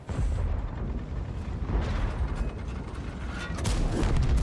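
A tank cannon fires in World of Tanks, a heavy booming blast over a constant rumbling engine and mechanical clatter, one sharp shot standing out near the end.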